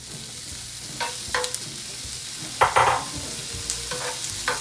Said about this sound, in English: We're gonna add the andouille sausage.